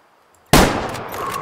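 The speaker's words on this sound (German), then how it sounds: "Ich müsste jetzt quasi nur hier hinschießen." A single loud gunshot in the hunting video game Way of the Hunter cracks out of near silence, followed by a lingering echoing tail.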